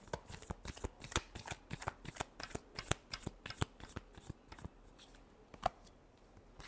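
A deck of cards is riffled and shuffled close up in a quiet room, a quick run of crisp flutters and taps in an uneven rhythm, with no talking.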